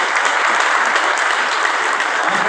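A cricket league crowd applauds steadily, a dense continuous wash of clapping at close range with no pauses.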